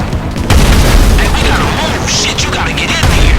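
Loud in-game gunfire in a GTA mission, heavy booming shots and bursts close up and continuous, with a voice talking over them.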